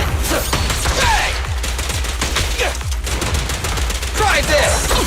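Rapid gunfire in the Zenless Zone Zero action game crackles in dense, continuous bursts, with sharp shots overlapping game effects and impacts throughout, loud and close.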